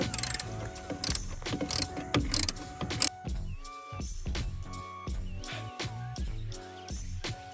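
A 10 mm ratchet loosens the ground bolt on a Kia Forte GT engine with quick, close clicking bursts, followed by slower individual clicks and metallic ticks.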